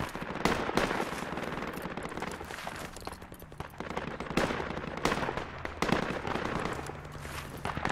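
Rapid gunfire in the military shooter Project Reality, steady bursts of automatic rifle fire and scattered single shots at mid distance, running almost without pause.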